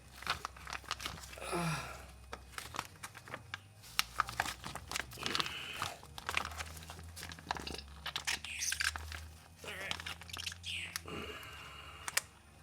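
Plastic fuel bag crinkling and crackling as it is squeezed and emptied into a Mercedes SLK32 AMG being prepared for drag racing, with irregular crisp rustles and taps, fairly close, mostly without talk.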